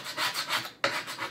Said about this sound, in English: Let's scrape this off